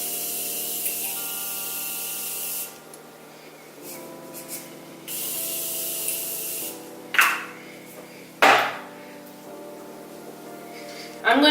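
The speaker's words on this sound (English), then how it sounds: "I'm going to set my face with my Morphe setting spray" Morphe setting spray mists onto a face in several short hisses, with a couple of sharper, louder bursts near the end, set against a faint steady hum.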